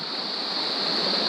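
A clear mountain stream, where fly fishing is under way, flows in a steady, even rush of water for a brief moment with no talk.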